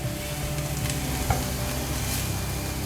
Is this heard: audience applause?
no